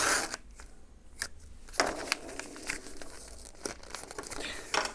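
A blunt knife scrapes and slices through a sticker on a postal parcel, giving crinkling, tearing plastic sounds with a few sharper strokes, close up and without talking.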